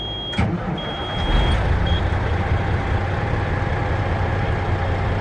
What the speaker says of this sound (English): now I'm going to start my diesel